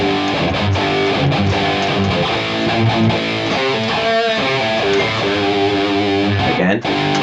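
Distorted electric guitar plays a riff, loud and continuous with bent notes and dense chugging chords, no talk over it.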